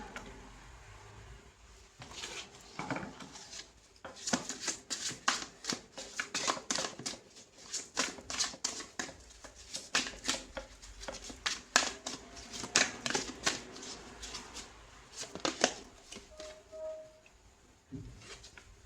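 A deck of tarot cards being shuffled, giving quick papery riffles and flicks in repeated bursts, soft and close throughout.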